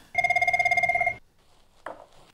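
A telephone bell rings in one steady, loud burst of rapid trilling for about a second, then stops, leaving a quiet room with a brief faint rustle afterward.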